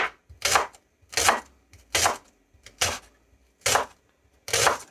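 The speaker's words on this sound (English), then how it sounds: "We just want it kind of uniform, just a rough chop." A knife rough-chops a leek on a cutting board, giving about six crisp, close, loud chops in a loose, uneven rhythm with short quiet gaps between strokes and no speech.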